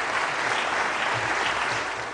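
Standing ovation in the French Senate after a vote, with steady, dense clapping from many people heard throughout, slightly distant and even.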